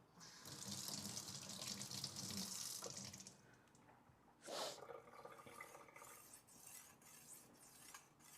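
Tap water runs into a sink to wet tortillas for a barbacoa and beans burrito bowl, a steady close hiss that pauses briefly, followed by a short splash and faint dish clatter as the flow continues.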